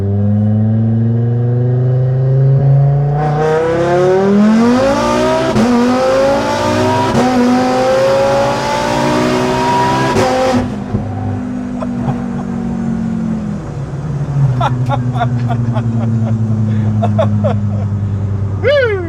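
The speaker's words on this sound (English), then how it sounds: "Second gear roll on." An Audi RS3 accelerates hard in a second-gear roll-on, the engine climbing loudly through the revs, then easing off as the car settles to a lower, steady drone; brief voices come up near the end.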